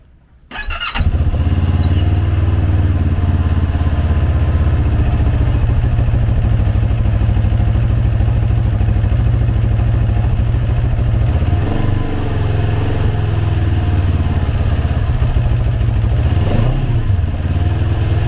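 A 2023 CFMOTO 700CL-X motorcycle engine starts abruptly and idles with a loud, steady throb, with a couple of brief revs later on; no voices.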